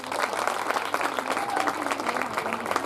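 Dense applause from an audience at a coaching centre performance event, steady rapid clapping throughout at even volume, fairly close, with no speech over it.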